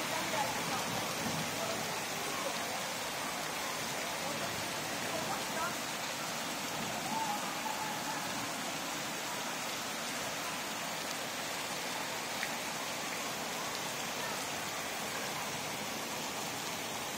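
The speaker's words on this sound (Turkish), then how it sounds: "Yağmur çok fena geldi." Heavy rain pours down steadily during a summer downpour that floods the streets, a dense constant hiss with no breaks, while a voice speaks faintly beneath it.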